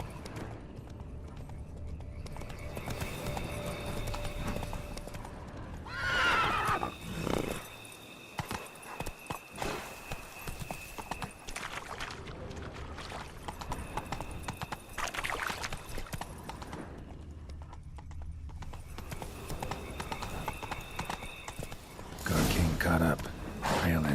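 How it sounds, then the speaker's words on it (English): Horse hooves clip-clop steadily alongside a horse's whinny in The Witcher video game, with someone talking over the scene and game ambience in the background. "Horses must have gotten spooked."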